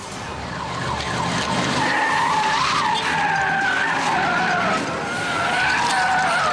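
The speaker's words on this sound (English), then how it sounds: "The car swerves to avoid their Mustang and skids out of control" A car skids out of control during a highway pileup, tires squealing in a long, loud, wavering screech over rumbling engine and road noise.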